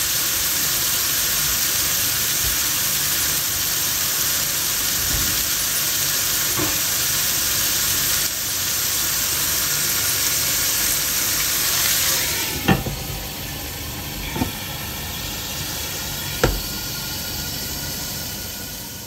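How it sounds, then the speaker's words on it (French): Water hisses and steams under a lid on a smash burger griddle, a loud, continuous sizzle, followed later by a few sharp metallic clanks. "on met un petit peu d'eau et le couvercle."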